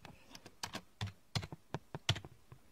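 Typing on a computer keyboard: a quiet, uneven run of close key clicks and taps with irregular rhythm and no talk.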